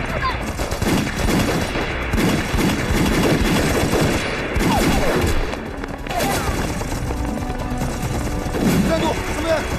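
Rapid fusillades of gunfire crackle loudly through a battle scene in a Chinese anti-Japanese war movie, mixed with shouting voices and bursts of noise throughout.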